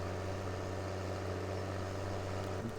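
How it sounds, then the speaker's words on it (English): A vehicle engine idles in the farming game Farming Simulator 17, giving a steady, muffled low drone with an even hum that holds throughout, heard alone at modest volume. "listen to a bit of the engine sounds as well"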